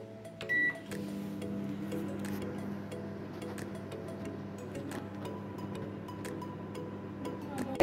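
A microwave oven hums steadily after a short beep starts it, roasting an eggplant for three minutes, with a low drone and faint ticking and rattling over the running motor.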